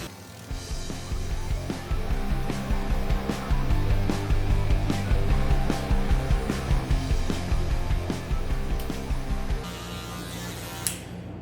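An electric hair clipper fitted with a 1.5 guard buzzes steadily while cutting a fade in a barbershop, close and loud, with brief pauses as it moves around the hairline.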